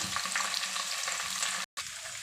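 Spinach shallow-frying in oil in a pan, a dense continuous close sizzle with light stirring, broken by a short silent gap near the end before the frying sound resumes.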